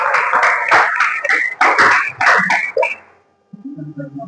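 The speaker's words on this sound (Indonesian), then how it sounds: "Tepuk tangan juga." A classroom group clapping hands in a quick rhythmic pattern, loud and close, about a dozen claps in a patterned sequence that stops abruptly, followed by a faint, short tonal sound.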